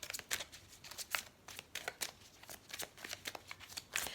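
Tarot cards being shuffled by hand, a quick run of riffling, flapping bursts close up, fairly quiet, with no speech over it.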